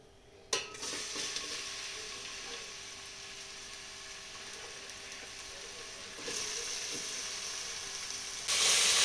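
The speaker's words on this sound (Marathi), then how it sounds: "असा कांदा चिरून घेतलेत मी बारीक आता मी तळून घेते कांदे" Finely chopped onions frying in a pan while cooking chicken dum biryani, a steady broadband sizzle throughout with a sharp clink near the start and the hiss swelling louder toward the end; no talk.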